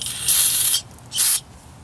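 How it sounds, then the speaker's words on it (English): An aerosol can sprays onto the brake caliper bolts of a 2002–2006 Honda CR-V in two short hissing bursts, the first about half a second long and the second shorter, close to the microphone. "This one, I'm gonna spray them and put oil also."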